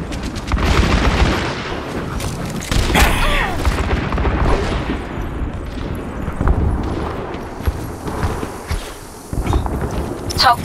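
Loud, dense game combat from Overwatch with repeated booming explosions and gunfire bursts as an enemy turret is destroyed, heavy impacts scattered across the whole stretch with steady crackling action throughout.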